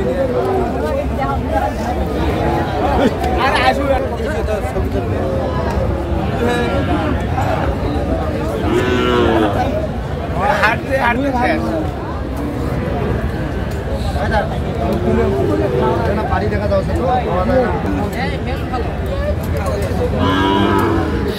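At a crowded Dinajpur cattle market, Sahiwal bull calves moo repeatedly nearby, long lowing calls rising and falling over a steady hubbub of people talking and bargaining.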